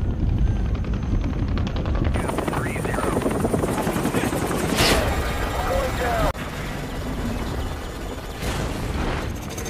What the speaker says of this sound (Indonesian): para tim bantuan itu tidak mendengar karena terganggu oleh suara helikopter